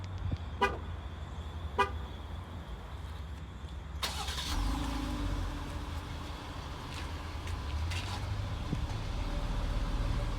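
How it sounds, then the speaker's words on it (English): 2019 Dodge Durango: two short horn chirps from a key fob remote start, then the engine cranks and catches, settling into a steady idle nearby. "You can hear that engine start up."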